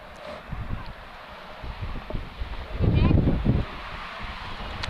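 Wind gusts across an outdoor high school baseball game on a cold, cloudy day, a steady low roar of buffeting against the microphone that swells to a stronger blast midway, with faint background activity.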